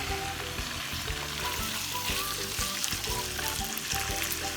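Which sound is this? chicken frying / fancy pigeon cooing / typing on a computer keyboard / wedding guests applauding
chicken frying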